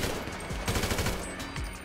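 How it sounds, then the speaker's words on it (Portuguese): Rapid gunfire from the video game GTA V during a sniper exchange, a dense burst of repeated shots at steady loudness filling the whole moment with no talk. "Tá, acertei uns tiros, foi o suficiente pra apavorar ele."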